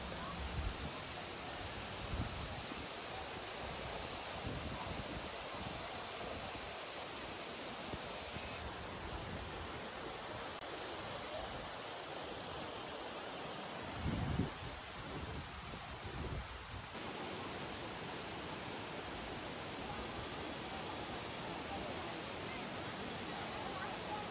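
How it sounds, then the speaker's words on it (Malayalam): Kuttalam Main Falls near Tenkasi, crowded in vacation season, gives a steady, dense roar of falling water that fills the scene, with faint crowd voices now and then underneath. "നല്ലൊരു മനോഹരമായിട്ടുള്ള ഒരു വെള്ളച്ചാട്ടമാണ്"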